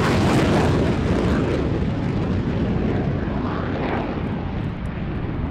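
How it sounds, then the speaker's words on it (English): A formation of jets, three L-39s, two Alpha Jets and a MiG-29, roaring past at an airshow, a loud sustained broadband engine rush that slowly eases as the aircraft pass. "the debut of the Polaris Dawn formation team, comprising 3 L-39s, 2 Alpha Jets and, most excitingly, a MiG-29"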